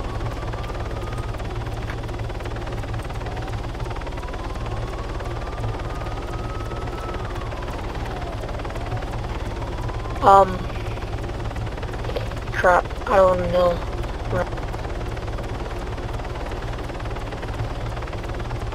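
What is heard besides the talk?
helicopter flying in a video game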